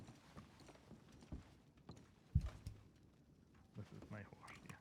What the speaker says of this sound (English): This is my horse, yeah.